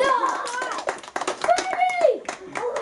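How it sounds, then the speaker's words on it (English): Children clap for a magician's trick at a birthday party magic show, scattered bursts of claps mixed with excited kids' voices calling out close by. "all of his friends give Spot a big round of applause"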